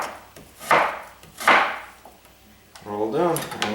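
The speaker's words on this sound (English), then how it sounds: "That way I don't have to keep going back and forth over it with a knife." A knife slices through onions in two crisp, rasping strokes about a second apart on a cutting board, followed by a brief voice speaking.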